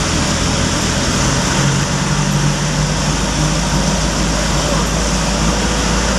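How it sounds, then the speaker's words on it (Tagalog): Tricycle motorcycle engine running steadily on a city street, the constant low drone of the motor mixed with surrounding traffic noise throughout, loud and close, with no talking. "Ingay ng makina ng motor."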